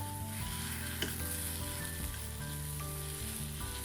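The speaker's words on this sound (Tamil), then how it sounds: "பட்டர் போட்டு இதை நல்லா கலந்து விடுவோம்." A semolina toffee mixture with butter is stirred in a pan over a low steady sizzle, with a strong constant hum underneath and an occasional soft clink of the spoon.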